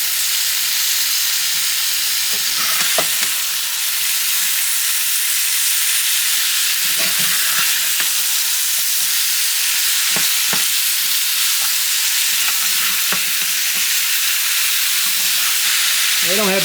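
Apples being flipped and stirred through caramel in a hot pan for an apple baby, a steady sizzle with repeated scraping and clacking strokes of the utensil, close and loud throughout.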